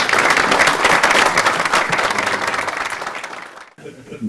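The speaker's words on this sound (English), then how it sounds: "Maybe a warm applause for His Serene Highness." Warm audience applause at a formal conference on tackling extremism and intolerance, a dense burst of many clapping hands that gradually fades and cuts off near the end into a quiet room.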